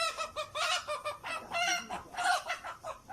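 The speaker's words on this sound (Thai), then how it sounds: "มีเสียงไก่เข้ามาด้วย" Chicken clucking fills the clip in a steady run of short, nasal calls, fairly close and continuous, with no talking.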